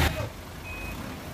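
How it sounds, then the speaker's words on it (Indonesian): A box truck being towed by officers during a roadside parking raid in Jakarta, with a steady high electronic reversing beep over low engine rumble, moderately faint. "petugas juga menderek sebuah truk box yang kedapatan mangkal sembarangan di sisi jalan"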